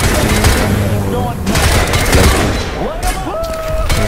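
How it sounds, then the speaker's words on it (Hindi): Incoming gunfire in Crysis 3, a dense burst of rapid shots over a rumbling battle backdrop, with rising and falling electronic tones cutting in near the end. "फायर भी आ रही है गाइस, कहीं से"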